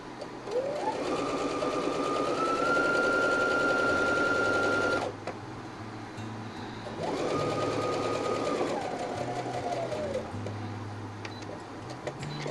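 A sewing machine stitches a shark-shaped pin cushion in two close, steady bursts of rapid whirring, with a short pause between for pivoting at a corner and quieter handling after.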